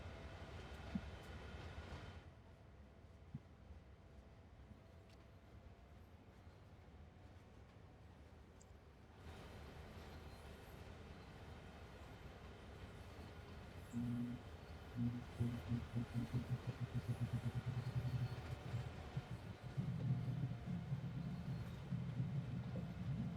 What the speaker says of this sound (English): just watching a train move.